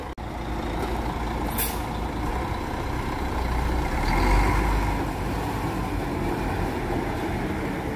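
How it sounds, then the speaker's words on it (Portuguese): An Andorinha New G7 coach pulls out of the Jundiaí bus station, a steady low engine rumble with one brief air-brake hiss near the start, swelling slightly midway as it moves off. "Dando saída, então, o carro da Andorinha, o New G7."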